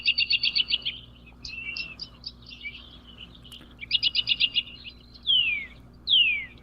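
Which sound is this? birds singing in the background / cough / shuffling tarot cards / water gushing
birds singing in the background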